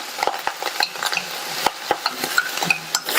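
Onion, curry leaves, and cut dried and green chilies being sautéed in a pan, a soft sizzle punctuated by frequent sharp spoon clicks and scrapes against metal, close and irregular.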